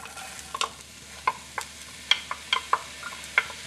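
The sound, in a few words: whole onion cooking in a pot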